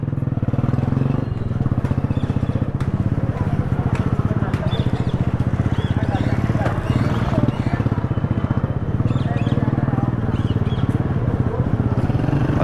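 Motorcycles ride through the crowded Saddar Bazar market, a steady, close engine drone and rattle that runs the whole time under the market bustle. People talk over the engines.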